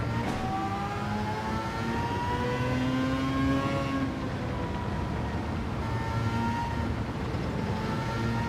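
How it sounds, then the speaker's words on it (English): A race car in Gran Turismo 7 holds a loud, steady engine howl with rising and falling revs as gears shift, continuous and close throughout. "Gear slamming."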